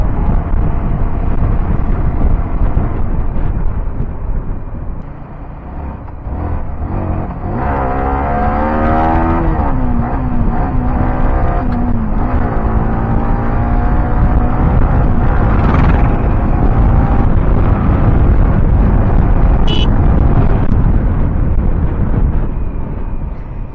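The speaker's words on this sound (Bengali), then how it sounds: "বাইক 90 যাচ্ছে ভাই, আমি বুঝতেই পারছি না বাইক 90 যাচ্ছে।" A motorcycle cruises at about 90 km/h, a loud steady roar of wind against the microphone with an engine drone whose pitch rises and shifts as it accelerates mid-way, constant from start to finish.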